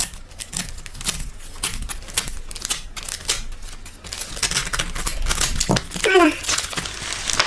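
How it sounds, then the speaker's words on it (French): A paper envelope being cut and torn open by hand, with crinkling, rustling and tearing bursts at close range, while a person speaks French throughout. "J'essaye d'ouvrir l'enveloppe."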